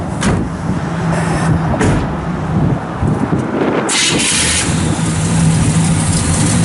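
A 1972 Chevrolet Chevelle Malibu SS idles through its dual exhaust with a steady, loud low rumble that runs the whole stretch, with no one talking over it.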